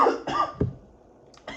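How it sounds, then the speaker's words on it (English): A man coughs after smoking weed: two or three quick, close, harsh coughs in a row, a short silence, then another cough begins. "even though I'm coughing"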